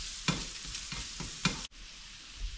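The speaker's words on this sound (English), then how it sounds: "I'm going to put my shrimp in there. Get my shrimp cooked." Shrimp and onions fry in a pan, a soft steady sizzle with a few stirring knocks and scrapes, fairly quiet and close, ending in a brief clunk, with no voices.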